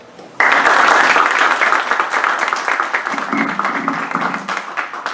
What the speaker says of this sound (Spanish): Recibámoslo con un fuerte aplauso